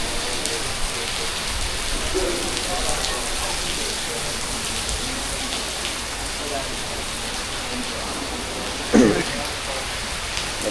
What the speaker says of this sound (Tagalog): Na-stop mo na yung aming shoot ngayon dahil napakalakas ng ulan tsaka hangin ni Rabi talaga.